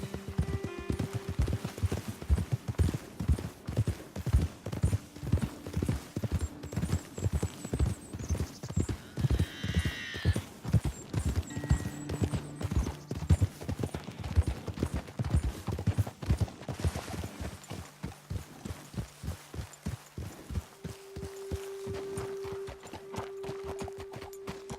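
Horse hooves clip-clopping in a steady, rapid rhythm while riding in Red Dead Redemption 2, close and continuous for most of the stretch, with a brief whinny, background music and a voice speaking near the end.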